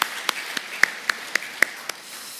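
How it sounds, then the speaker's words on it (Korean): Sparse, slow clapping from a small church congregation welcoming visitors during a Sunday service, about nine separate sharp claps spaced evenly and close by, with no continuous crowd roar. "우리 환영의 박수 해주시면 감사하겠습니다."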